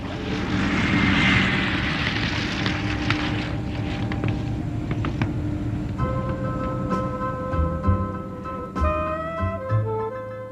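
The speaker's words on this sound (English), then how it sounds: "Skyraiders are essentially a big fighter plane." A Douglas A-1 Skyraider piston propeller aircraft roars past, its engine drone loud and rough, then the pitch shifts as it moves away, leaving tonal engine whine.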